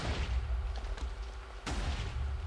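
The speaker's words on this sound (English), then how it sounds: "This is Demon's last shot" TNT cannon fire in a Minecraft match booms under a steady low rumble, with a couple of soft thuds early on and one sharper blast near the end, all fairly muffled.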